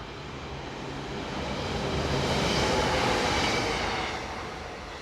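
A Steiermarkbahn Class 4062 electric train, unit 002, runs on the Graz to Leoben line. Its steady broadband rumble swells as it passes close and then eases slightly, with no voices.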